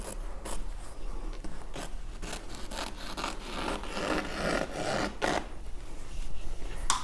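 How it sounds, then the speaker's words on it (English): Scissors cut away fabric while a skirt is draped, giving a close, steady rasping and scraping with repeated snips across the stretch, no talk. "there is a pin, and I will cut this away"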